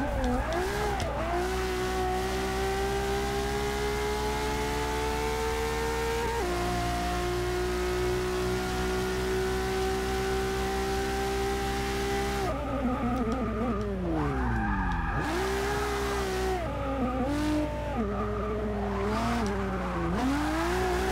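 A LaFerrari races in Forza Motorsport 6. Its engine screams loud and steady for long stretches, pitch climbing through the gears, then drops off while the tires squeal through corners with rising and falling whines.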